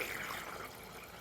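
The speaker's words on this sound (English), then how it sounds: "and here comes the water" Faint water flows and trickles into an off-grid drinking post waterer for livestock, a soft steady rush that gently fades over a second.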